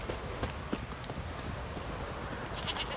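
Horse hooves clip-clop in the fantasy role-playing game The Witcher 3, a quiet, steady trotting rhythm of repeated hoof strikes under faint ambient noise.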